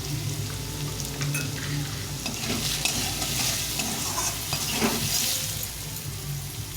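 Potatoes frying in a pan with salt and turmeric: a continuous sizzle with intermittent scraping stirs, close and moderately loud, with no talking.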